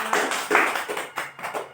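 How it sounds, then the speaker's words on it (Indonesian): Students in an eighth-grade Qur'an and Hadith classroom give a classmate a short round of applause: a few scattered, uneven bursts of hand claps, fairly close and light, fading after under two seconds. "Boleh tepuk tangan juga buat Lisa."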